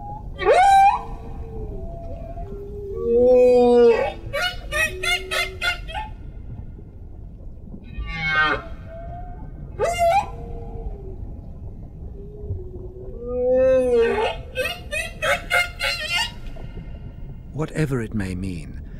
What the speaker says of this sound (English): The song of other whales in the North Pacific is completely different.